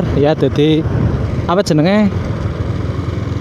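Motorcycle fitted with an aftermarket Tsukigi exhaust, heard close and loud, revving with a rough, vibrating drone; sharp throttle rises come in two short bursts over the running engine, with someone talking over it.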